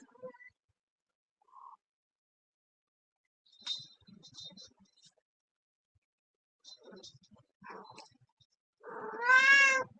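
A cat in heat gives a few scattered short calls, then a long, loud drawn-out yowling meow at the end, with silence in between.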